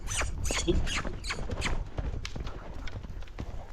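A ridden horse's hooves clip-clop in a steady walking rhythm on the ground, close and fairly loud, as it slows from a trot, with no talk over the footfalls.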